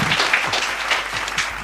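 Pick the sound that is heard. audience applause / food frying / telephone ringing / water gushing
audience applause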